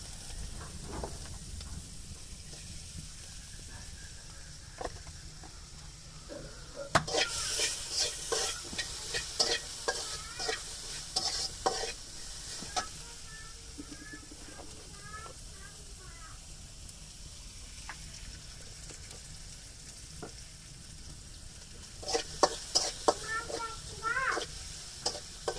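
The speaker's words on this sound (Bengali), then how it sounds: "এখন পেঁয়াজের ভাজনা করবো, সেজন্য চিকন করে কাটা পেঁয়াজ দিচ্ছি" Thinly sliced onions fry in a pan for egg pulao, giving a steady soft sizzle throughout, broken by louder bursts of stirring and scraping, with a voice talking intermittently over the cooking.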